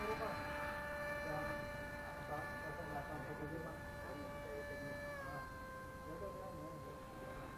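A scratchbuilt RC F-16C Fighting Falcon model jet throttles up for its maiden takeoff, a steady whining tone with a sustained high hum that holds level and then shifts pitch partway through, moderately loud.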